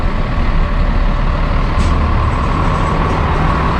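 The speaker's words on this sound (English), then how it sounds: "More architecture, a lot of traffic jam." Heavy street traffic jam on Canal Street in Manhattan, with trucks and buses idling and rumbling loudly nearby, a brief hiss of an air brake partway through over a dense, constant low engine drone.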